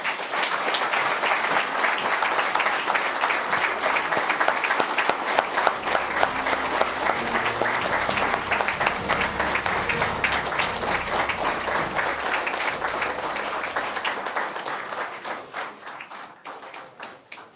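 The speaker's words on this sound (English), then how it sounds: "A round of applause again for the Governor." An audience applauds the Governor in a legislative chamber at a State of the Territory address, with sustained, dense clapping that fades out toward the end.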